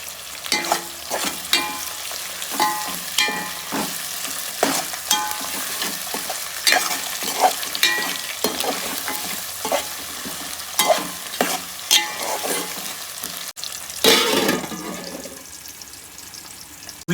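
Onions frying in a pan for a simple chicken curry, a steady sizzle broken by repeated clattering scrapes of a spoon stirring, close and fairly loud, with a brief splashy burst near the end.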